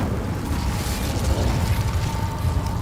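An Incendio fire spell cast in Hogwarts Legacy gives a steady roaring, crackling whoosh of flame, dense and loud throughout, with no voices.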